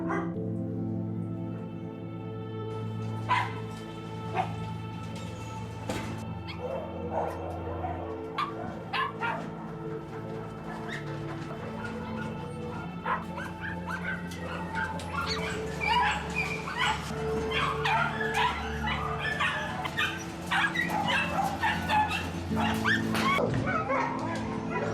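Many dogs bark, yip and whimper at once inside a dog breeding shed with concrete cells, a dense, continuous chorus of near and distant calls echoing throughout, growing busier toward the end.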